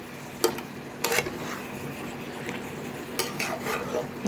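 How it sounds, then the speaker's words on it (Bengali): Soybean chunks sautéed and stirred in a pan for a vegetarian dish, with sharp spatula clanks against the pan at irregular intervals over a soft continuous sizzle, close and fairly quiet. "এই সোয়াবিন কষা হচ্ছে এখন"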